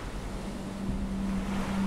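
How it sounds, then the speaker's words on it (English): Choppy ocean waves in the survival game Stranded Deep make a continuous, even wash of surf with a windy hiss and a low steady hum underneath, after a storm. "the waves are even more choppier"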